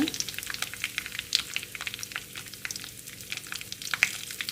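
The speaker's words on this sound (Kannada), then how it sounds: "ಸಾಸಿವೆಯನ್ನು ಹಾಕ್ಕೊಂಡಿದ್ದೇನೆ ಈಗ ಕರಿಬೇವನ್ನು ಸೇರಿಸ್ಕೊಳ್ತಾ ಇದ್ದೇನೆ" Mustard seeds and curry leaves fry in hot oil for a raw mango rice breakfast dish, giving a steady close sizzle scattered with small pops and crackles. No one speaks.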